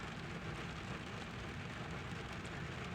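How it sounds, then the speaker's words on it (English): Steady rain falls early in the morning, a dense, even patter with no pauses, close and fairly loud for the whole stretch, with no voices over it. "It is raining."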